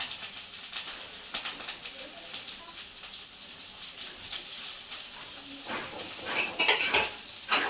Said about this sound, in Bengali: পেঁয়াজ আর লঙ্কাটা একটু ভেজে দেবো।